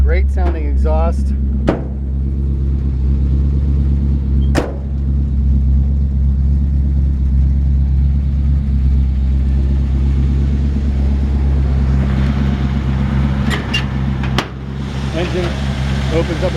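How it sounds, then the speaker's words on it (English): A 1951 Chevrolet 3600 truck idles with a deep, steady exhaust rumble close by, with a few sharp clicks and short bursts, and a voice comes in over it at times. "Great sounding exhaust."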